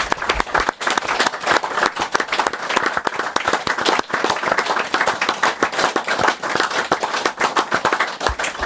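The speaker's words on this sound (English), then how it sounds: "I think we should just give him a round of applause" A round of applause from a studio audience on a football talk show, dense continuous clapping from many hands, loud and steady throughout with no talk over it.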